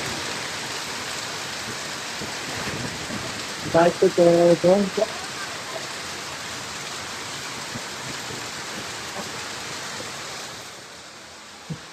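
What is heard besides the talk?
heavy rain falling outside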